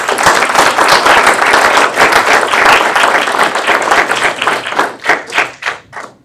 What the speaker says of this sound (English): Can we give Ms. Shaw a round of applause, please?